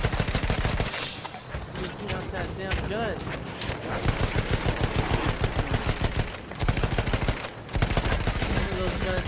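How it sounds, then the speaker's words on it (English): Rapid gunfire in the video game Battlefield 1, bursts of automatic fire and repeated shots running almost continuously, loud and close, with a short pause near the middle. "Those guns shooting at me."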